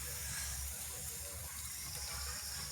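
Water trickles and splashes steadily from a steamer cooking puttu outdoors, a close, continuous wet rush with no voices.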